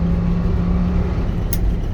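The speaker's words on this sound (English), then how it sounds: "Running down the road in third gear." A 1948 GMC PD3751 coach cruising down the road in third gear, its engine giving a steady, close, continuous low drone with a constant hum and rumble and no shifts or pauses.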